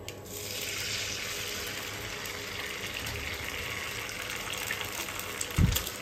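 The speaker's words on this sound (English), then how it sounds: "So I'll just break an egg in." An egg fries in already-hot oil in a pan, giving a steady, close sizzling hiss that runs throughout, with a brief low knock near the end.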